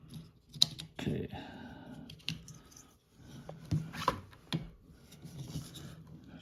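A plastic cover snaps onto a wiper blade on a 2013 Toyota Camry. Quiet, close clicks and handling noises come in an uneven run, with short pauses between them.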